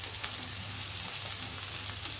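Boiled carrot, beans and moong dal frying in hot oil with green chillies, a steady close sizzle and crackle filling the whole clip without a break.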